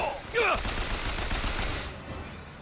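Machine gun fire in BioShock Infinite, a dense rattling burst of rapid shots filling most of the short moment before trailing off, loud and close.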